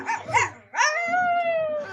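A young man from Chhattisgarh imitates a dog with his voice, giving a couple of quick yelping barks up close, then a long, drawn-out whining howl.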